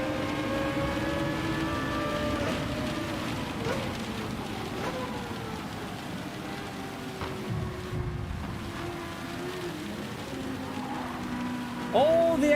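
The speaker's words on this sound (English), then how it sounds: "Okay, it's picking up the rain now." Rain in the racing game Gran Turismo 7, a steady hiss of rainfall and spray over a continuous car engine drone, loud and constant throughout.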